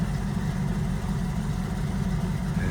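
A 1968 Chevrolet Camaro with a fresh engine idles steadily, a deep constant rumble close by with an even low throb and no revving.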